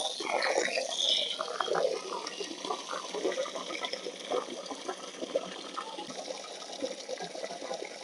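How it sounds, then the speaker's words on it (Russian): Water splashes and gushes steadily for several seconds onto freshly planted garden soil, a continuous wet pouring with bubbling texture, close by and moderately loud. "Поливаем водой и засыпаем землей."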